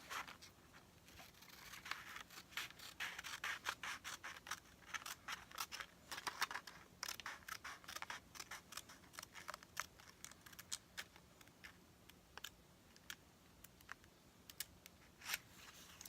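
Scissors snip through a paper sewing pattern while a sleeve is being altered, a quiet, irregular run of crisp cuts and paper rustles spread across the whole stretch, with no talking.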